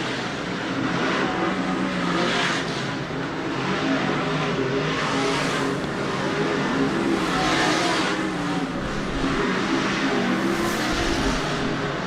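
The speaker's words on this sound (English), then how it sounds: "As drivers work through this hot lap session." Super DIRTcar Series dirt track race cars on hot laps at Volusia Speedway Park, a steady loud roar of several engines with rising and falling surges as cars pass, continuous throughout with no talk.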